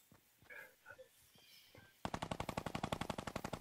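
Rapid automatic gunfire in the video game Fortnite Battle Royale breaks out suddenly and holds as a steady, loud stream of evenly spaced shots after a quieter stretch of faint game sounds.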